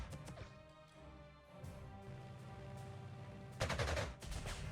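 Video game fighter planes on strafing runs in Panzer Corps 2 rattle off dense, continuous machine-gun bursts, with a heavier, louder volley near the end over steady battle noise.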